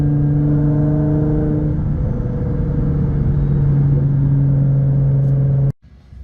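A Nissan GT-R Black Edition drives along with a steady, loud engine drone that holds almost constant, then cuts off abruptly near the end.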